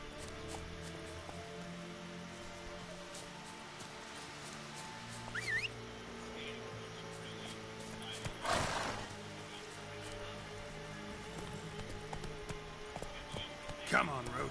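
Hoofbeats of Roach the horse in The Witcher, faint and irregular under continuous game music, with a brief louder swish or snort near the middle and another near the end.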